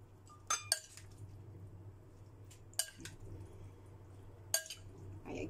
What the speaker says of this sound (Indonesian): lanjut aku mau hidangkan di piring ya.